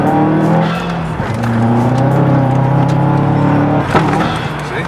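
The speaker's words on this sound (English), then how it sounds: "Just do a burnout, bro." Turbocharged car doing a burnout, tires squealing loudly and continuously over a roaring engine for several seconds, with a brief surge near the end.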